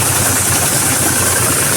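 An electric, battery-charged power sprayer machine runs close and loud, a steady dense motor drone with a faint pulsing rhythm and no pauses or talking.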